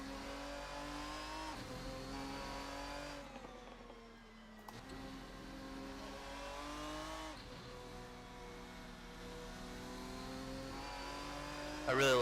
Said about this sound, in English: Sounds like a turbocharger.